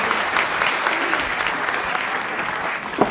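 Audience at a Hindi kavi sammelan poetry recital clapping steadily, a dense, loud, continuous wave of applause from a large crowd.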